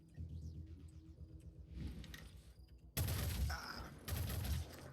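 Sniper gunfire in a video game: bursts of loud, rumbling shots and heavy blasts layered over game background noise, with a louder stretch of fire in the second half.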